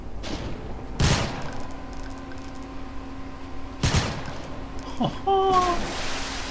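Sniper rifle shots in the shooter game Call of DooM: three loud, sharp reports spaced a few seconds apart, the last followed by a short metallic reload clatter, over a low ambient game hum.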